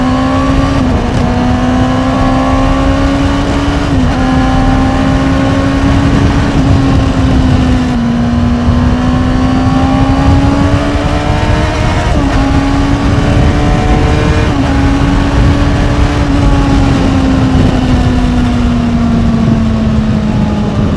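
A Honda CBR600RR motorcycle engine drones loudly on a night ride, its pitch climbing and dipping through gear changes with steady wind rush underneath, heard from very close for the whole stretch.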